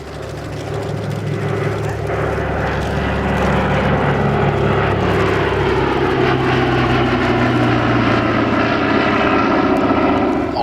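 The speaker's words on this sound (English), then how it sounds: "This particular aircraft, built in 1905, based out of Dunsfold in Surrey." A vintage aircraft, stated as built in 1905 and based at Dunsfold in Surrey, flies at an air display, its engine a loud continuous drone that swells slightly as it passes, with no talk over it.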